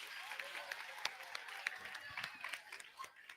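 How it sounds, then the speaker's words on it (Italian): Audience applause for children at a theatre show, a dense wash of clapping with scattered sharp claps, moderately loud and steady throughout, with some crowd chatter mixed in. "un applauso, siete stati bravissimi"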